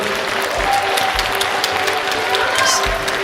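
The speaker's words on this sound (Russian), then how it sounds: "Давайте искупаем в аплодисментах наших артистов." A theatre audience gives sustained applause, a thick, continuous wash of many hands clapping at full volume.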